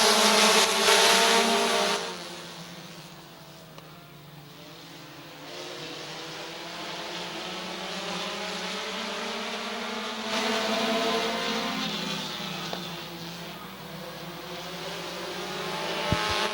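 Race cars at Midvale Speedway roar around the track, a continuous loud engine drone rising and falling as cars pass, heard from trackside without talk.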